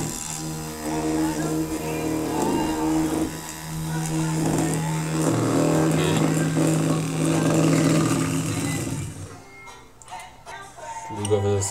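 Small electric motor spinning at its second speed setting under a PWM driver board, a steady whirring hum with a sustained tone that runs for about nine seconds before cutting out into quieter ticks and handling noises.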